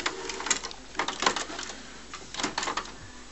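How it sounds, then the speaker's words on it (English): An HP Photosmart D5160 inkjet printer fitted with a continuous ink system runs with its lid open, giving close, faint bursts of mechanical whirring and clicking in an uneven rhythm. "I'll leave the lid up for a bit so you can see it printing with the lid open."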